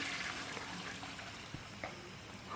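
A toilet flushes inside the bathroom of the horror video game Baby in Yellow, a steady rush of water with faint gurgles that runs evenly for a few seconds with no one speaking.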